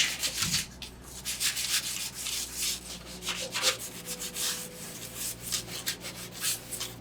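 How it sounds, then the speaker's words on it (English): Hand sanding of a wooden guitar sideboard, steady back-and-forth rasping strokes in a close, even rhythm lasting throughout with no talking. "I forgot to sand the sideboard"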